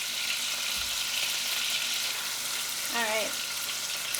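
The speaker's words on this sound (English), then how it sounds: "they're really sizzling now" Steady, broadband sizzling of steak bites frying in garlic butter in a hot pan, with a short spoken word briefly rising over the crackle.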